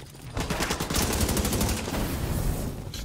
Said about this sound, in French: Le mec il tire